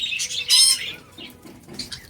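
Pet lovebirds at feeding time beat their wings in a short flurry and let out sharp squawks, close by and fairly loud, with softer chirps after.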